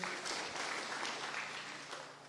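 A crowd at a political rally in Ruiru claps for Honourable Gladys Wambui, a dense, continuous patter of applause that holds steady and fades slightly toward the end.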